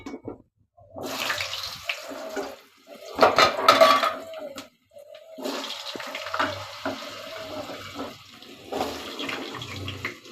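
Diced potatoes hit hot oil in a pan and fry, bursts of sizzling and scraping with clanks of utensils against the pan, close and loud, in uneven waves with short pauses.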